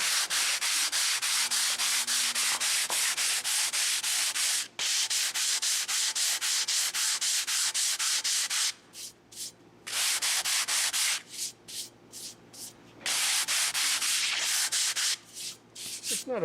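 A 40 grit sander works over a limestone patch, giving a continuous harsh, gritty rasp with a rapid pulsing texture, broken by several brief pauses as the tool lifts off the stone.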